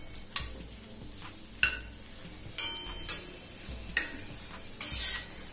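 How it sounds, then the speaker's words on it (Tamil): Chicken being sautéed in a pan for tawa chicken, with a spatula scraping and stirring roughly once a second over a faint, steady sizzle. The sound is close and quiet, with no talk. "சிக்கனை நல்லா பச்சை வாசனை போக வதக்கிடுங்க."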